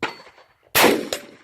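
A rifle shot outdoors followed by the metallic clang of the bullet striking a steel target, a sharp loud burst then a quick ringing ping, with a faint earlier knock beforehand.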